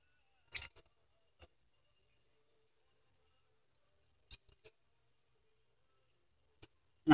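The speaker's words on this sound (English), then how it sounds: "And I'll cut off the extra." Scissors snip off excess card paper in a few sharp, isolated clicks and cuts scattered across a quiet background, close and crisp.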